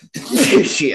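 A single sharp sneeze from a man during a sports podcast, close and loud, followed immediately by a quick muttered word.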